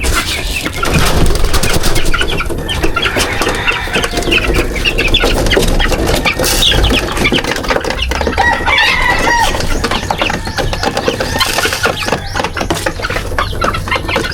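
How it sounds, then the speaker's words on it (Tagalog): Hungry backyard chickens and chicks cluck loudly and continuously, with overlapping squawks and an occasional rooster crow, a busy close flock with no talking. "yung mga alaga kong manok. Gutom na naman."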